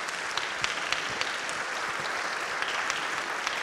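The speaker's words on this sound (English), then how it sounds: "How about a round of applause for Kimberly?" Audience applause at an evening public talk with a congressman: steady, moderate clapping from a room full of people, with a few sharper individual claps standing out.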